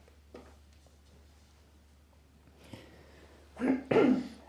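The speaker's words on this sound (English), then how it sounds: "Sorry, it's winter. Lots of coughing." Several coughs ring out in a quiet meditation hall in winter. One is faint early on, and two louder, close coughs come near the end against a hushed background.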